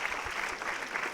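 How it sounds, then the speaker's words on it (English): Brief burst of audience applause at a live conversation event in Los Angeles, steady dense clapping throughout without voices. "Take a huge round of applause for Robin Lithgow"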